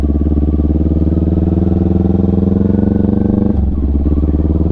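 A motorcycle rolls slowly in first gear on a wooded trail, its engine chugging in a steady, close, even idle-like throb with a brief dip near the end.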